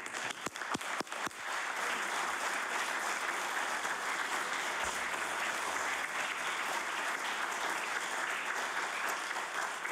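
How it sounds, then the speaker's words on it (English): Warm applause fills the House of Assembly chamber from legislators and gallery, a steady dense clapping that holds at even loudness for the full stretch after a few sharper claps at the start. "If they could stand and receive the warm applause of the House."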